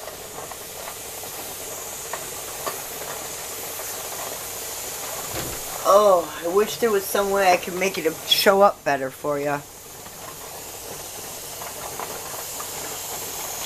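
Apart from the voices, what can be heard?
pressure canner venting steam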